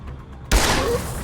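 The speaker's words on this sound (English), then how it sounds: "Gunshot." A single sudden gunshot in the video game Deus Ex: Human Revolution, with a sharp loud onset followed by a sustained noisy burst or rumble over a quiet ambient background.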